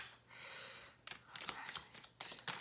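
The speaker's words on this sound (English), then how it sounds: "let me give this a good shuffle" A tarot card deck is shuffled by hand, quiet papery riffles and soft slaps coming in a few short bursts close up.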